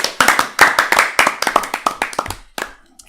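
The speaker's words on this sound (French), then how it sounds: "Je pense qu'on peut l'applaudir." A handful of people clap for a radio show presenter in a studio: a close, crisp burst of distinct hand claps that thins out and stops after about three seconds.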